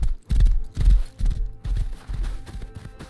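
A horse in the video game Rust trots along, its hooves giving a loud, close clip-clop in an uneven rhythm of heavy thuds for about three seconds, with no voices.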